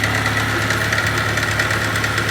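A 1948 Crosley CC sedan with its original engine runs steadily at idle nearby, giving a continuous, even mechanical drone with a faint rhythmic knock and no pauses.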